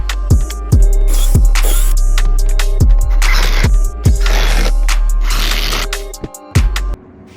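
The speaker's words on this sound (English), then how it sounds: "And screw it in until I have enough to fit the base of my anvil." A power drill drives screws into wood to build an anvil stand: repeated short whirring bursts with rising pitch, each ending as a screw seats, followed by a longer grinding run, close and loud.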